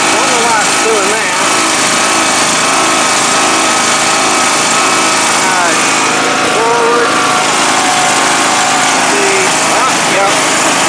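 A Troy Bilt Pony riding lawnmower with a 42-inch cut runs after repair, its small engine droning loud and close at a steady pitch for the whole stretch.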